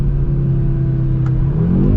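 A turbocharged 2023 Audi RS3 or Mercedes-AMG CLA 45 engine revs hard and accelerates toward the rev limiter, its loud roar climbing steadily in pitch throughout.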